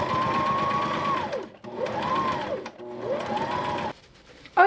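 A sewing machine stitches fabric in three quick runs, each rising to a steady whirring hum and then trailing off, with brief pauses between them, close and moderately quiet.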